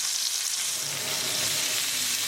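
Butterfly chicken breast frying in hot oil in a pan, giving a steady, close, bright sizzle and crackle that holds evenly throughout with no talking.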